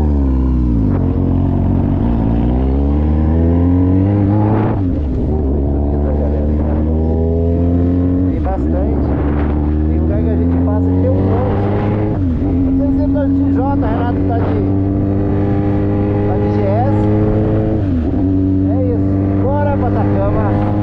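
A Jaguar XJ6 pulls away across the Atacama desert, its engine loud and close, revving up through several rising gear changes with a steady droning roar.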